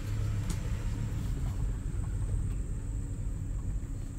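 A Volvo 850 with a new radiator and new heavy-duty springs drives on a short test run, giving a steady, continuous low engine and road rumble from inside the car with no talking.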